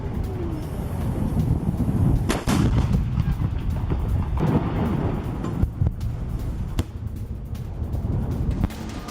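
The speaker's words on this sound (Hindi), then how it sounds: "हमास का रॉकेट हमला कैसे होता है" Hamas rockets being launched, heard as a series of sharp, loud blasts and cracks over a rough, roaring rumble, with several distinct bangs spread across the stretch.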